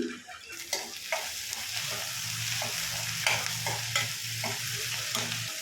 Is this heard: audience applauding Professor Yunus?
no